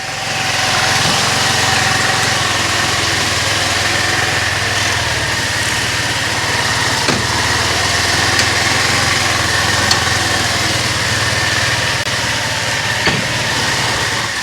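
A moped's small engine runs steadily at high idle, a constant buzzing drone held close and loud for the whole stretch with no talk over it.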